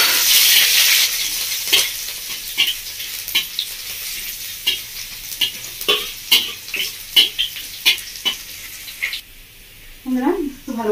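Chopped garlic and green chilli frying in oil with a whole-spice tempering for a village-style Bengali prawn dish, a steady close sizzle broken by repeated scraping stirs, with a voice speaking briefly near the end.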